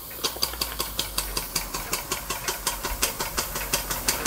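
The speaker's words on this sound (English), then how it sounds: "we're gonna get the little Märklin Donkey Engine steamed up, and we'll see if we can get this running" A small Märklin Donkey Engine model steam engine drives a model band saw with a loose blade, giving a steady, rapid chuffing and knocking rhythm with a hissing mechanical clatter, fairly close and continuous.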